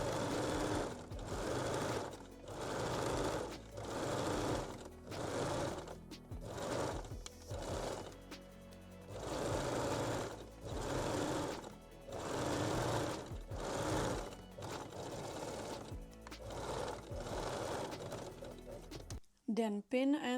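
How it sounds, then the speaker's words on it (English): A sewing machine stitches the elastic waistline of a picot-elastic high-waist thong in repeated close bursts of rapid whirring, stopping and starting about a dozen times with short pauses between runs. "Then fold the elastic to the wrong side and stitch the waistline again."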